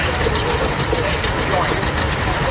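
A 1959 John Deere 530 two-cylinder tractor, a rare low-production model, runs steadily at a tractor expo, its loud continuous engine drone mixed with crowd noise and voices nearby.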